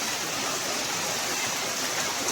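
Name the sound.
rainwater flowing like a stream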